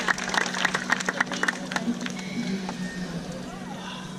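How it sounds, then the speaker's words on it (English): Audience applause at a bird show at Taronga Zoo in Sydney, a scattered, moderately faint patter of clapping that thins out into open-air crowd murmur and a voice. "Everyone give Kim a round of applause"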